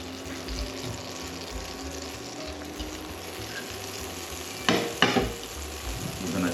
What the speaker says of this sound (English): we're gonna put a little bit of butter. This is on a, like, it should be like a medium heat, but it seems to be sizzling away.